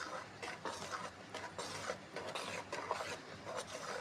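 Dosa batter made from anganwadi rice is mixed by hand in a large vessel, giving a steady, close, wet squelching and scraping that repeats in uneven strokes with no talking.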